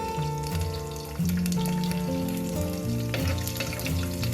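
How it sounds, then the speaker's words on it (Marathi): Garlic cloves dropped into crackling mustard seeds in hot oil for a Malvani buttermilk kadhi, dense continuous spitting and popping sizzle, close and steady, heard over background music with no talking. "मोहरी अशी तडतडली की त्याच्यात आपण घालणार आहोत ही लसूण पाकळ्या, आणि लसूण थोडीशी लाल करायची।"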